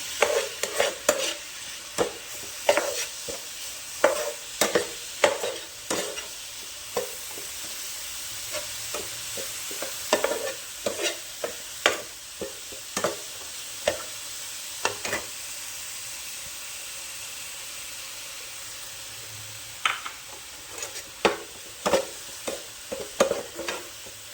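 A spoon stirs a mixture of fresh date palm jaggery in a pan in a village kitchen, giving repeated close scraping strokes in an uneven rhythm over a faint background sizzle, with no voices.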